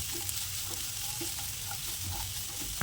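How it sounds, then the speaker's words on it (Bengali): Chopped onion fries in oil left in the pan after cooking dried fish, with a continuous soft sizzle broken by scraping stirs and small pops, heard up close. "এবার এই একই তেলের মধ্যে আমি যে কুচি রেখেছিলাম পেঁয়াজ সেটাকে এবার বেশ দু থেকে তিন মিনিট আমি একটু ভেজে নেবো"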